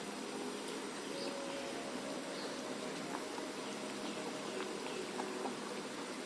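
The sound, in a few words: pav bhaji vegetables boiling in cooker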